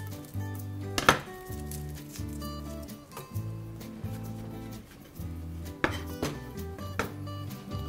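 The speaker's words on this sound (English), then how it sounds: "I'm going to chop them. So half rounds." Knife chopping zucchini into half rounds on a board in a restaurant kitchen, a steady run of close, crisp taps with a few sharper knocks and a low hum behind.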